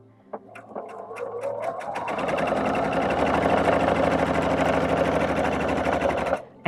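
A sewing machine stitches a quilt, starting with a few separate needle strokes and then settling into a fast, steady mechanical whir that runs close and loud until it stops abruptly.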